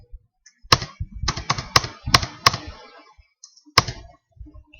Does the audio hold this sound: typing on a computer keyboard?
yes